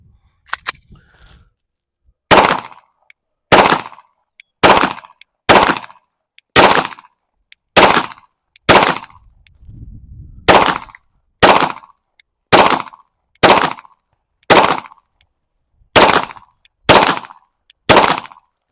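Palmetto State Armory Micro Dagger pistol firing 15 Tula 115-grain rounds at a range, loud sharp shots at a steady pace of roughly one per second, close, with a brief quieter rustle partway through.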